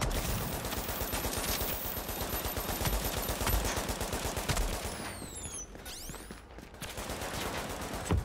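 Rapid machine gun fire in the shooter game Tom Clancy's The Division, a dense continuous rattle of shots, close and loud, with a brief whistling sweep near the end and no talk.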